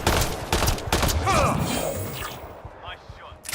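Rapid bursts of gunfire in the Mass Effect: Andromeda video game, loud dense volleys with sharp cracks over the first half that thin toward the end, while a voice speaks over the shooting.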